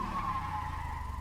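Tires skid and squeal steadily as a 3/4-ton pickup brakes hard during a stopping test, a continuous close scraping whine with no talk over it.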